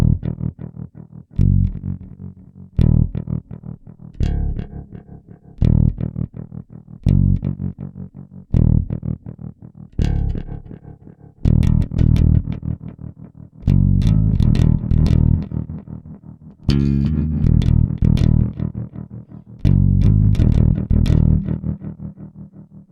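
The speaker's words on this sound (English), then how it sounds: "This is trem delay." Bass guitar played through the trem delay effect of a Zoom MS-60B multi-effects pedal: repeated plucked notes and phrases that pulse and echo, loud and steady throughout with no talk.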